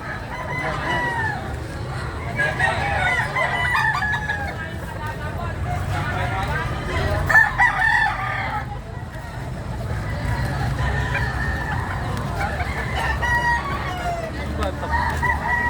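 Native chickens squabble close by, with roosters crowing and hens clucking over a busy background of people talking.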